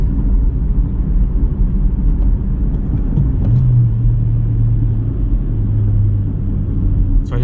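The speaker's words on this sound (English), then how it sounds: "I just double clutched in the third there, rev match, double clutch in the third" A 2024 Honda Civic engine rumbles steadily from inside the cabin, then a short rev rises and holds during a double-clutch rev-matched downshift, loud and without talk.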